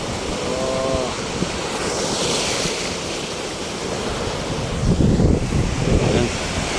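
Ocean waves wash and roll steadily at a shoreline, a constant broad surf with wind noise on the microphone and a louder surge near the end.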